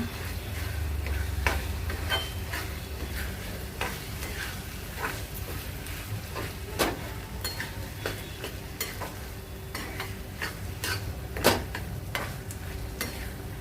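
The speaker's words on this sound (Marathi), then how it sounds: "पण चांगलं परतून घेते आता" Masoor lentils with ginger and garlic sautéed in a pan, a steady sizzle with a utensil stirring and tapping the pan in irregular clicks, close and continuous with no talk.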